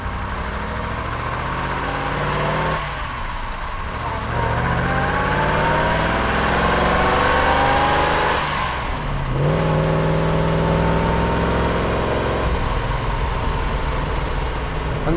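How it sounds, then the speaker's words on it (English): A Lamborghini Silhouette P300 V8 burbles at idle, then blips up in several rising revs that fall back to a steady, close-up idle, with no talk over it. "that gives the V8 burble"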